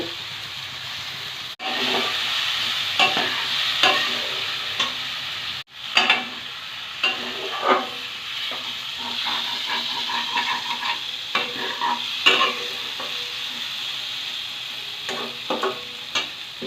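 Potato and ridge gourd fry with spices in a pan under a continuous loud sizzle, while a spatula scrapes in repeated irregular strokes, with two sharp knocks near the start.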